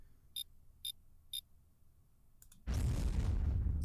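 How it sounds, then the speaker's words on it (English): Three short electronic beeps are followed by a sudden loud burst of noise that carries on roughly, like an explosion. "A bloody explosion."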